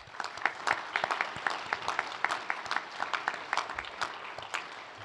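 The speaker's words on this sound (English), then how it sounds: "Please join me in a round of applause." An audience at an awards ceremony claps in a steady, fairly soft round of applause that lasts a few seconds, heard from a distance without voices.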